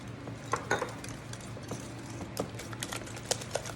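Eggs being beaten in a bowl to break the yolks, ahead of adding sugar: quiet irregular clinks and taps of a utensil against the bowl, soft and close, with short scattered bursts and no talk.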